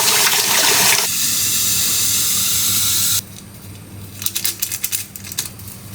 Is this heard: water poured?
yes